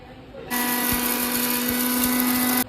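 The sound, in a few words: mixer grinder grinding spices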